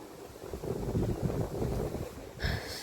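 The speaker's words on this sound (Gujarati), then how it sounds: "આજે પવન વધારે છે ને" Strong wind buffets a phone microphone at an open window, a loud continuous rumble that swells and gusts, with a brief brighter burst near the end.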